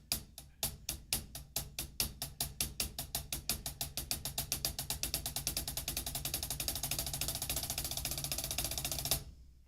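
Close, clear double stroke roll on a drum: a steady run of sharp hits that starts out distinct and speeds up into a smooth, dense roll, then stops abruptly.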